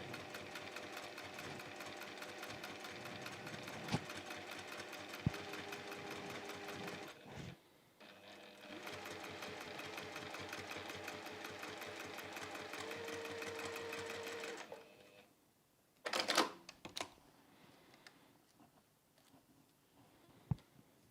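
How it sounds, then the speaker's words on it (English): A sewing machine stitches a quarter-inch seam through five or six layers of quilting fabric, running in two long steady bursts of rapid, even chatter before stopping, followed by a brief clunk and quiet handling sounds. "So you're sewing through all of those layers."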